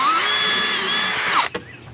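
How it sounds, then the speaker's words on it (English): A power drill whines steadily at high pitch while boring through a plastic wheel liner on a Cadillac SRX, then stops abruptly near the end with a brief clunk. "And all we're doing is drilling through this liner here."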